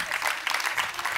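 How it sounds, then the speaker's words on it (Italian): Audience applause at an evening variety show of sketches and performances, a dense, even patter of many hands clapping, moderately loud and continuous, with some crowd voices underneath. "facciamo un applauso a tutti, dico tutti, i partecipanti di questa serata"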